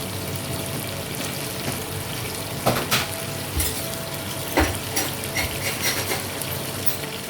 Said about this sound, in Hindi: अब इस स्टेज में मैं इसमें 2 टेबलस्पून डाल दूँगी दही के।